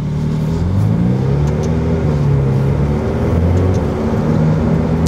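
A Ferrari F8 Tributo drifts on track, its engine a loud, sustained roar that rises and falls as the throttle is worked, with rumble and revving heard close and alone.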